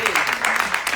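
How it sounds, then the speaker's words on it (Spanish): Audience clapping welcomes a lecturer at a theatre talk, a short burst of steady applause from the crowd with a faint voice tone running underneath. "Y lo recibimos con un fuerte aplauso."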